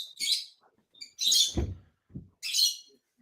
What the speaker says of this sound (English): By the way, Jason, how many birds do you have in your room there